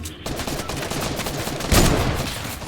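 Gunfire comes from behind in a shooter video game, heard as a loud, dense burst of rapid shots that runs through the whole short stretch and swells toward the end.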